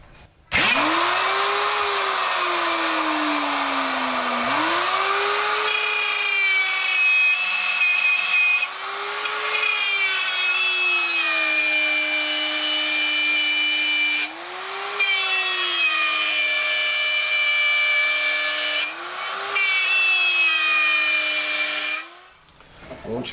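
A router mounted on a Jasper circle jig whines up to a steady high pitch as it cuts a six-inch wood circle, dipping in tone several times as it bites into the material, then spinning down at the end.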